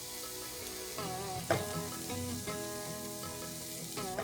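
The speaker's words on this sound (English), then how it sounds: "I'll also add in some cumin seeds along with whole coriander seeds." Dried coconut with cumin and coriander seeds fries in a pan, giving a soft continuous sizzle and a few light stirring scrapes beneath steady background music.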